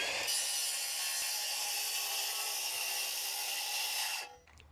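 A cordless saw squares up the chainsaw-cut end of a log from a dead lakeside tree, giving a steady hissing, rasping cut that holds for about four seconds and then stops abruptly.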